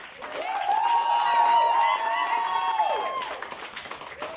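Audience at a motivational speaking event clapping and cheering, a sustained loud burst with voices calling out over it, trailing off toward the end.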